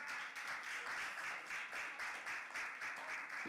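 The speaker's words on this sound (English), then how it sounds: "Clap it up for Patrice, y'all." Audience clapping for a woman invited up at a community gathering, a steady moderate wash of many hands that runs the whole stretch without a break.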